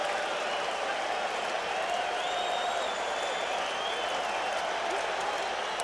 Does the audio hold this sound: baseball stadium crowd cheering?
yes